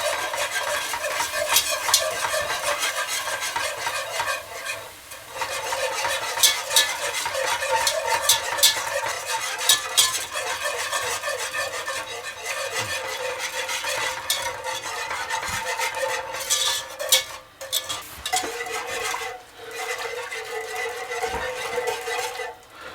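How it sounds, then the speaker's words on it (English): A utensil stirs a pan of sauce while milk is gradually poured in for cheesesteak tortellini, giving a steady, close scraping and swishing that runs continuously with faint bubbling and no talk. "We're going to add it gradually. And stirring as we add."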